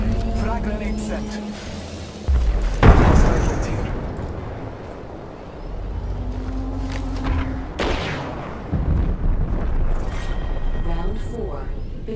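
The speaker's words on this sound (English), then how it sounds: "Frag grenade sent. Arcstar out. Throwing Arcstar. Frag grenade sent." Frag grenade blasts and gunfire in the Apex Legends battle royale shooter, a couple of sharp booming explosions with rumbling tails amid engine-like drone and scattered shots, with game voice lines talking over the action.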